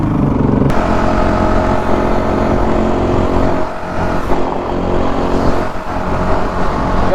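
A motorcycle roars close by while riding along on a cool day, a loud steady engine drone with wind rush that dips and swells as another bike passes.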